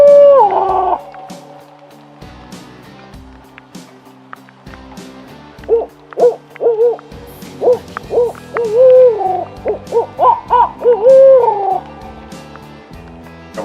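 A person imitates an owl's hooting with the voice as a locator call while scouting for wild turkeys in Georgia, rhythmic rising and falling hoots in two bursts outdoors, fairly loud and close, with quiet background between.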